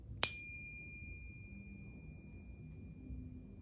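A real silver bar pinged once, giving a single bright, clear metallic ring that sustains and slowly fades over a couple of seconds against a quiet background.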